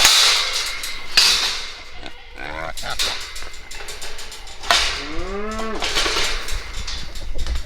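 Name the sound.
cows on a farm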